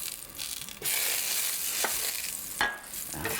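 Butter and oil sizzle loudly in a hot pan, a bright continuous hiss that surges when something hits the fat, with a few clinks and scrapes of stirring.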